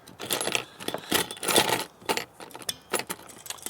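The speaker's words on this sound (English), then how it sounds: "That tightens the zip tie when you do that, and then that cuts it off real close right down." A zip tie tool tightening a zip tie around a BBQ grill propane hose and then cutting it off, a quick series of close metallic clicks and ratcheting snaps in uneven bursts.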